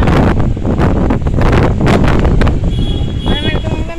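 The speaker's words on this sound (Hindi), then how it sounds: "बहुत तेज हवा चल रही है" Strong gusts batter the microphone in loud, continuous low roaring buffets that drown nearly everything else outdoors, easing slightly toward the end as faint tonal sounds appear.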